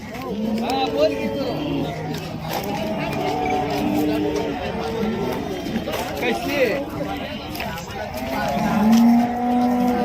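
Khillar cows low repeatedly at the Sangola cattle market, with several overlapping moos of varying pitch close by, over a continuous bed of crowd chatter and people talking.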